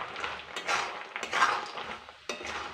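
A spoon scrapes and clinks in a pan as fried banana chips are tossed with jaggery syrup, ground cumin and ginger, giving quiet irregular stirring knocks and a sharper clank near the end.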